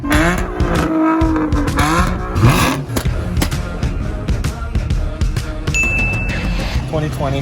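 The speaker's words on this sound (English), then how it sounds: "Had to make sure the exhaust wasn't rattling." A 2020 Toyota Supra with a muffler delete and straight-piped exhaust revs up and down in sport mode, loud and close, with rising and falling engine tones and some metallic clinks, while a voice talks over it.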